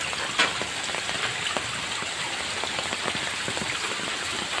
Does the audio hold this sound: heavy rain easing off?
yes